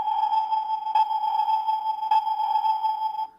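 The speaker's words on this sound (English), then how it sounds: "I guess that's supposed to be sonar." Electronic sonar sound effect from a Transformers Energon Optimus Prime toy: a steady synthetic tone with regular faint pings about once a second, close and clear with no talking.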